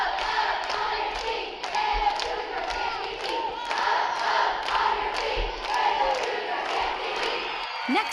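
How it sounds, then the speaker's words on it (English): Students at a school assembly shout a Cougar cheer, a sustained crowd roar with rhythmic stomps or claps punctuating it at a steady beat. "Ray took the crown, bringing on a Cougar cheer that brought everyone to their feet"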